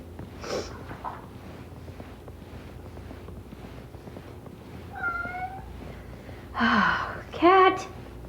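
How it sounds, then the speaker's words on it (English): Indoor house cat meowing a few times, short soft calls at first then two louder, drawn-out meows near the end, with faint household noise between. "Cat, do you have to do this every day?"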